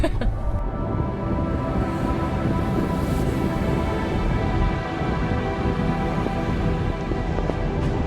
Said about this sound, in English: So the rain surprised us on our way down to the waterfall.